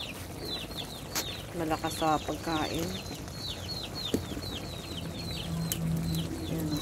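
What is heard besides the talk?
chickens clucking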